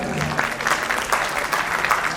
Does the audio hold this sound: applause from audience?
yes